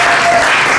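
Congregation at an evening revival service bursting into applause, a loud dense wash of clapping filling the whole brief moment.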